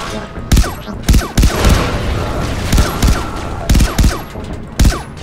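Rapid bursts of futuristic gunfire from the video game Far Cry 3 Blood Dragon, loud and close, with several sharp volleys punctuating a dense, continuous battle din.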